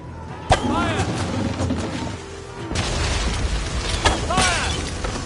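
Cannon fire in a video game: a few heavy, booming shots ring out at intervals over a busy battle din, with voices shouting commands between the blasts.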